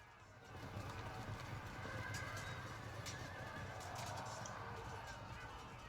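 Light horse cavalry in a strategy video game neigh and whinny amid a steady galloping, clip-clopping battle din that stays loud and continuous throughout.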